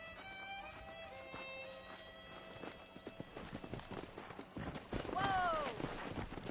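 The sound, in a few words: wild horses galloping in Red Dead Redemption video game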